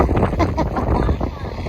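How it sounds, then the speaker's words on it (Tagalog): Strong wind buffets the microphone in a persimmon field, with loud, continuous gusty roaring and low rumbling throughout. "Sa sobrang lakas ng hangin ngayon guys"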